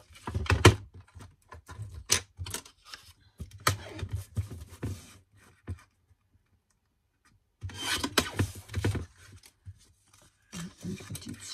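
Close, dry snipping and rubbing of paper card being cut by hand for a handmade greeting card, in irregular bursts with a pause midway.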